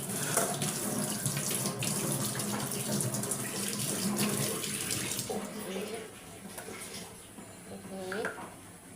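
Tap water runs into a sink while fish is washed, a close steady splash and gurgle with clattering handling noises, easing off partway through, with a voice talking over it.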